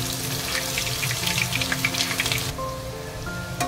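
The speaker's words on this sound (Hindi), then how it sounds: "एक से 2 मिनट के लिए आप जिंजर गार्लिक पेस्ट को भून लीजिए तेल में" Ginger garlic paste frying in hot oil in a kadhai, a steady close sizzle and crackle with no voices, bubbling on throughout with a slight change partway.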